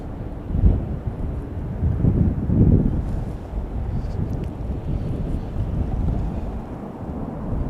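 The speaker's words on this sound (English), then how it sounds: "Wow, this wind is crazy." Strong gusty wind at Chicago O'Hare airport, a loud low rumbling roar buffeting the microphone with surging gusts, continuous throughout.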